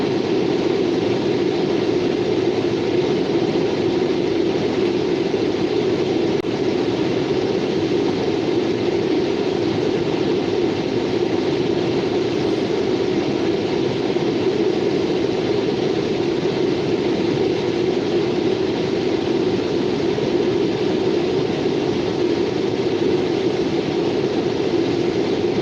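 Norfolk Southern freight train rolling past at Beaver Falls, Pennsylvania: a continuous heavy rumble of engine and wagons, steady and unbroken for the whole stretch, with no talking.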